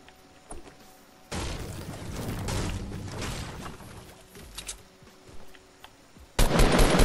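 Gunfire in the Fortnite video game, including a pump shotgun, with bursts of shots and impacts scattered through a busy stretch and a loud blast near the end.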